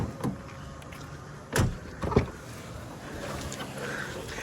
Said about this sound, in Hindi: ये दरवाजा पिछला खोल।